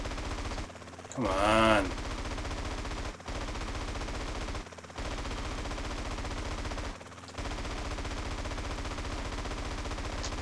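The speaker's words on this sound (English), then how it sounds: "Like, look at how many shots do I waste, man." Continuous rapid automatic gunfire rattles in GTA San Andreas, dense and loud, with a few brief gaps and a short voice cutting in early on.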